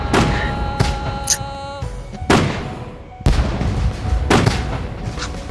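Fireworks going off in a first-person video game, heard as several sharp booming bursts spaced a second or so apart, each with a crackling tail, over steady game background noise.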